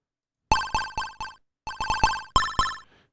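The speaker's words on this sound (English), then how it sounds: "So this that I've programmed here is just a square wave." A square wave synth tone programmed in maxYMiser plays a bright, buzzy, chiptune-like pattern of short notes in two quick bursts of four, with a gap between, clean and close with no other sound.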